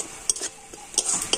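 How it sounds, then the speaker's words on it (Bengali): Gobindobhog rice is stir-fried with spices in a pan, a spatula scraping and tossing in short repeated strokes over a light sizzle, close and fairly loud. "গোবিন্দভোগ চালের সাথেও মশলাটা আমি একটু কষে নিচ্ছি।"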